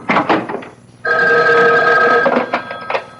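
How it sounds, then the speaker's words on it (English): A telephone bell rings loudly in a steady burst of about one and a half seconds, set between stretches of voices talking in an old-time radio mystery drama. "Excuse me, that's my phone."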